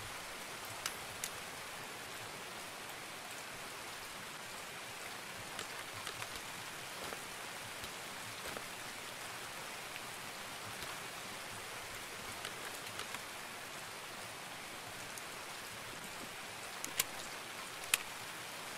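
Steady rainfall in the video game Escape from Tarkov hisses as an even, continuous wash with faint scattered drips, moderately quiet and alone throughout.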